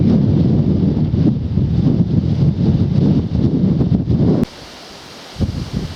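Wind buffets the microphone on a coastal countryside walk between Lewes and Seaford, a loud, low rumbling gust that drops away abruptly near the end, leaving a quieter hush with one more brief thump.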